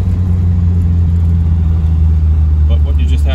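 A 1972 Fiat 850 Spider's small engine revving as it shifts up through the gears, a loud steady low drone filling the cabin while someone talks over it.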